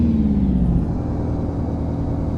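A Ford L-Series 8000 truck engine in the American Truck Simulator game runs with a loud, steady low rumble and a faint rising whine early on, with no voices.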